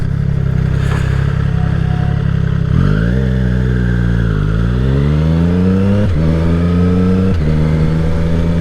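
A 2020 Triumph Street Triple 765 RS pulls up through the gears without the clutch, its engine loud and close, rising in pitch with each gear and dropping sharply at every shift, several shifts in a row with no voices.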